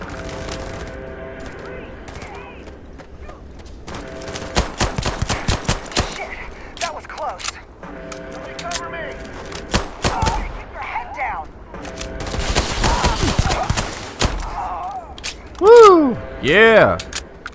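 Bursts of gunfire in Starfield erupt in several loud rapid volleys separated by quieter stretches with game music and ambience, while a voice talks intermittently.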